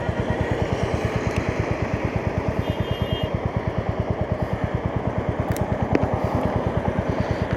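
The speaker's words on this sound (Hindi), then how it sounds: "अब थोड़ा ना सही चलेगी बाइक" Motorcycle ridden along a mountain pass road, its engine thudding in a steady fast rhythm with a continuous close drone throughout, with no talk over it.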